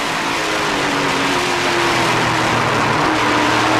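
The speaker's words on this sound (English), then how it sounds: "Riding on board with DJ Kennington as he continues to chase number 95 Impala SS of Anthony Simone." Onboard roar of a NASCAR Camping World Truck Series truck racing at speed at Road America, a loud continuous engine drone with steady pitch and wind noise, close and unbroken throughout.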